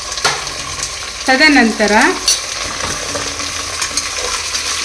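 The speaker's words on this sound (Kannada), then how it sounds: "ತರಕಾರಿಗಳನ್ನು ಚೆನ್ನಾಗಿ ತುಪ್ಪ ಎಣ್ಣೆಯಲ್ಲಿ ಫ್ರೈ ಮಾಡಬೇಕು" Carrot, potato and cabbage fry in ghee and oil for a Mysore vegetable pulao, a loud close steady sizzle with scraping stirs, while a voice briefly speaks over it.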